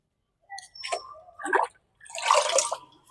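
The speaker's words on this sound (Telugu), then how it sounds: "ఇప్పుడు మనం నీళ్ళు అయితే ఇద్దామండి." Water poured onto a potted garden plant, fermented vegetable-scrap water used as fertiliser, heard as a few short splashing bursts and drips at close range, with no talk.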